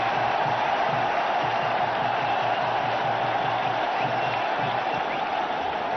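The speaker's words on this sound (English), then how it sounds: "Brings the crowd alive, and rightly so." Cricket crowd at an India versus Australia match roaring and applauding after a boundary, a continuous, broad stadium din that holds steady throughout.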